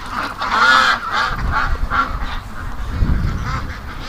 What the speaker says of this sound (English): There's a bunch of Canada geese on the lake.